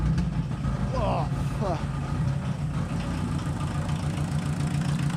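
A Volkswagen Rabbit engine idles steadily after being started with ether, a continuous low, even hum throughout with a brief faint chirp early on.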